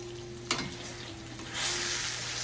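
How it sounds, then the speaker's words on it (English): Chicken frying in a pan and being flipped, a steady close sizzle with a clatter as a piece is turned, then the sizzle brightening and growing louder, no talking. "I'm gonna flip my chicken real quick."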